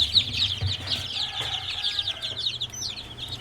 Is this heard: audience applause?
no